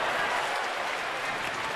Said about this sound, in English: Did you hear the crowd reaction on the foul? Yeah, they loved it.